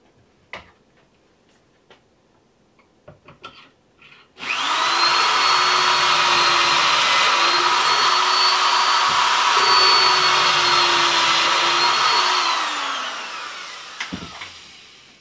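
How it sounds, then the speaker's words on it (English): A power drill boring pocket holes into a wooden face frame piece: a few light knocks, then a loud steady high-pitched motor whine for about eight seconds that dips in pitch and winds down, followed by faint handling clicks. "I'm going to put the pocket holes in the inside"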